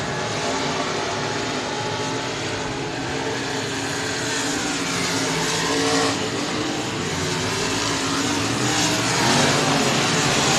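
Limited modified race cars battling out of turn 2 at Sabine Speedway, a continuous loud roar of several engines revving and swelling as the pack passes, heard from trackside.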